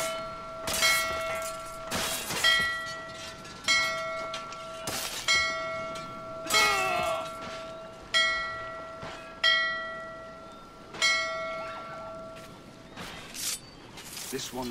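A church bell in the pirate game Assassin's Creed IV Black Flag tolls about eleven times at an even, slow pace, each loud strike ringing out and decaying, with talking and game noise underneath.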